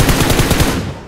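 Sustained spray of automatic gunfire in PUBG Mobile, a rapid, loud burst of shots firing continuously for about a second with no talking.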